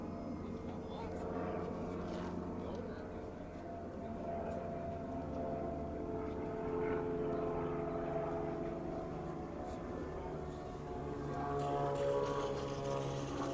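An E-Flite UMX Pitts S-1S, a small RC model biplane, comes in to land in a crosswind, its tiny motor giving a thin steady buzz that rises and falls slightly. People talk nearby.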